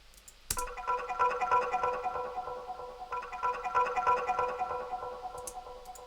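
A music stem from The Legend of Zelda: Ocarina of Time plays with a ping-pong panning effect. A bright, dense pattern of repeated notes starts after a sharp attack and keeps a steady pulsing rhythm, restarting midway.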